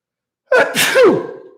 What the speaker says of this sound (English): I'm gonna have to sneeze, guys.